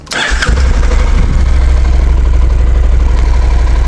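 A Honda CTX700 motorcycle with its stock muffled exhaust cranks briefly and fires up, then settles into a loud, steady, low idle close by.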